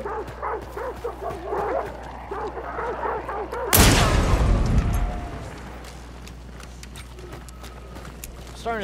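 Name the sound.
dogs barking in video game Hunt: Showdown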